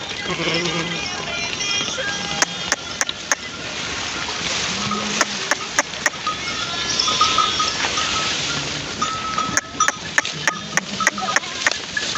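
A flock of sheep and goats bleats here and there over a steady outdoor hum, with sharp clinking bell-like ticks scattered through and a voice now and then.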